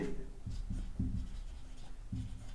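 A teacher writes on a classroom board with chalk, with several short scratchy strokes in uneven bursts, close and clear.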